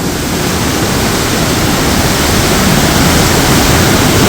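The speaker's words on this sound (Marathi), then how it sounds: "जिथून हे उजनी धरणातून पाणी डाव्या कालव्यात मिसळत आहे तिथलं दृश्य तिथला आवाज आपण ऐकतोय" Water from the Ujani dam gushing through mechanised gates into the left canal, a loud, continuous, broadband roar that stays steady throughout with no voices.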